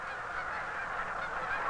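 Canada geese honk in a dense flock, with many overlapping nasal calls running continuously and moderately loud throughout.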